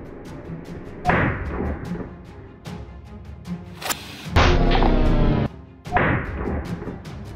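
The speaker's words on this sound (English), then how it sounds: "put the firecracker on it, and I'm just gonna flip the bottle over." Sharp booming thuds from firecrackers exploding on a water bottle go off repeatedly nearby, including a long roaring blast in the middle, loud and explosive against a quiet background.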